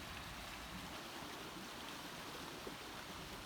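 Gushing water rushes in a steady, dense, continuous wash of noise with no breaks, fairly faint and alone without voices.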